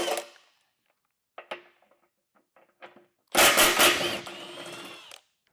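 On a 2024 Jeep Grand Cherokee, 21mm frame bolts for a trailer hitch are removed: a few short mechanical clicks and taps, then a loud burst of rattling impact-tool noise lasting under two seconds.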